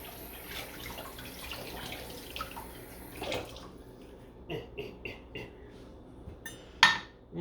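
Water running into a pot during a rinse, a steady rushing flow from a tap that stops partway through. Clanks and metallic knocks of the pot being handled against the sink follow, with one sharp louder clatter near the end.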